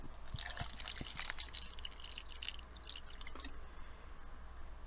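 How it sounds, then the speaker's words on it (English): Water poured into a small cup, a quiet close trickle and splash that runs for a couple of seconds, then thins to faint dribbles. "And then I'm just going to pour some water in it."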